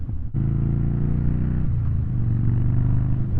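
A Harley-Davidson Rocker C motorcycle engine idles loud and close with a deep, lumpy V-twin rumble, picking up after a brief dip into a steady, throbbing run that deepens slightly toward the end.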